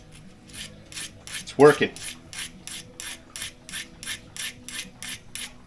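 A hand file sharpens a hardened, non-stainless metal tool in even back-and-forth rasping strokes, about two per second, close and crisp, with a short spoken remark partway through.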